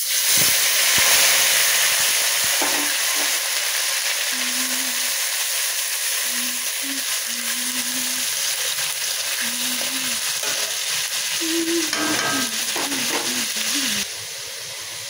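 Spice paste of cumin, ginger, garlic, onion, chilli and chopped tomato frying for a pea and potato ghugni. A dense, loud sizzle runs throughout, with a low wavering tone drifting in and out over it, and it drops slightly at the end.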